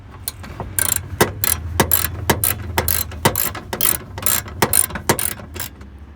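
A socket ratchet clicks in steady, rapid bursts while bolts are backed out on an NA Miata, close and sharp over a low mechanical background, with no voices.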